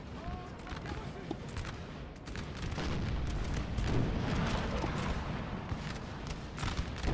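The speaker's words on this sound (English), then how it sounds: "That artillery is starting to really destroy this line." Artillery fire in the video game Napoleon: Total War during a 4v4 battle, a dense run of booms and crackling gunfire over a continuous battle roar, with talk heard over it.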